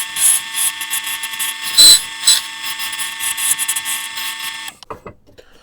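A lathe roughing out two small parts runs with a steady, fairly loud metallic whine and hum, with brief surges in cutting noise, then stops near the end, leaving a few faint knocks and handling sounds.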